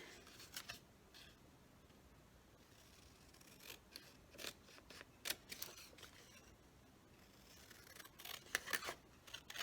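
Scissors cut out a paper tag with quiet, scattered snips and crisp paper rustles, close but faint and coming in irregular bursts.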